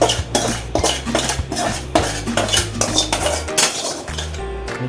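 Maggi noodles tossed with masala in a pan, a utensil scraping and clinking against the metal in quick, rhythmic strokes, close and fairly loud with no speech.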